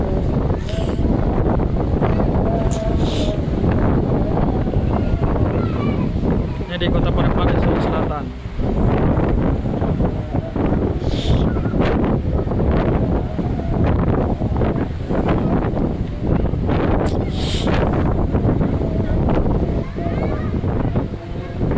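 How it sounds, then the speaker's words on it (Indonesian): Loud, constant wind buffeting the microphone with a roaring rumble throughout, waves and surf faintly audible beneath, while a person talks over it, at the floating mosque park on the shore in Parepare, South Sulawesi. "hari ini angin cukup kencang"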